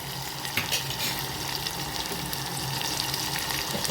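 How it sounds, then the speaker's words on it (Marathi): Bhaji and papad fry in hot oil in a kadhai, giving a continuous close, moderately quiet sizzle and crackle with no voices. "इकडं कढई ठेवली आहे, भजे पापड करून घेते."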